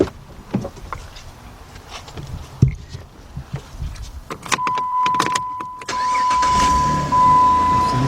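Door clunks and rustling, then the 3.7 engine of a 2007 Jeep Grand Cherokee Laredo cranks and catches, settling into a steady idle with a high whine from a dash chime.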